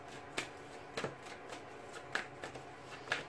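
Soft, crisp tarot card shuffling with sharp riffles and taps at irregular intervals, close by and quiet, with no talking.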